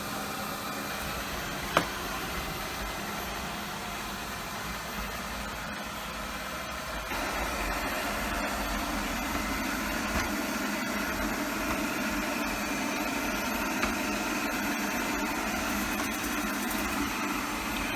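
A budget OKP Life K2 robot vacuum cleaner running in wall-follow mode indoors, giving a steady, continuous whirring hum of moderate loudness that stays constant throughout.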